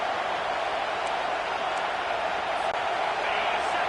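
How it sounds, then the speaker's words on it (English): A stadium crowd at an American football game roars steadily while the opposing offense faces third and long, a dense, loud, continuous wall of noise with no pauses. "Listen to this crowd just shaking the girders of this place, trying to help their defense."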